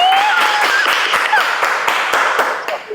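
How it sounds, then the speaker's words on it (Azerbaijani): A crowd applauding, dense overlapping clapping at steady loudness that tapers off near the end, with no voices. "Alqışlayaq dostlar"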